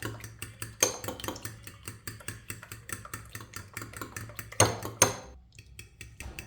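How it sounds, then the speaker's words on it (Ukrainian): An egg is whisked in a bowl with a fork or whisk, making rapid, rhythmic clinking taps against the bowl and a couple of louder knocks, all close by with a faint hum behind them. "Збиваю яйце"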